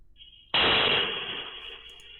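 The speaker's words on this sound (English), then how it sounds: "Tiffany and Ross wake to the sound of two more explosions." A sudden, loud bomb blast at a neighbor's house bursts in after a brief lull, then its broad rumble slowly decays over the next second and a half.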